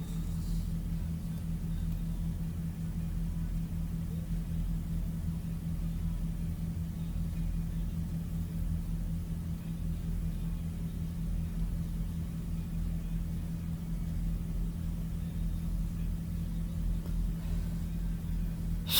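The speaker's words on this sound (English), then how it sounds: "Now I'm pulling forward. I'm about to back in and couple this trailer." Semi truck idling and creeping slowly backward to couple a trailer in Tennessee, heard as a steady low diesel rumble with a hum. The sound stays close and constant, with no voices.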